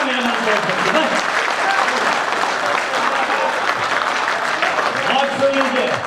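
Audience at a Hindi poetry recital about Haldighati bursts into sustained, dense applause, loud and continuous from start to finish, with a few voices mixed in.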